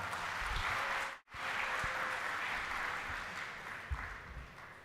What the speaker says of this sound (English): Let us give us a big round of applause